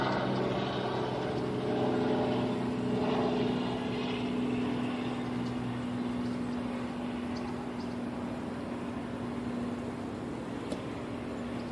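Helicopter passing over an outdoor interview setup, a steady distant droning engine hum with a sustained low tone, moderately faint and continuous with no talking.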